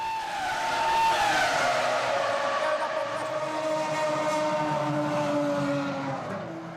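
A 2005 Formula 1 car runs loud and steady with a high, sustained engine whine that sweeps slowly in pitch as it passes. The moment follows Nick Heidfeld's right rear tyre failure, with no voices over the engine.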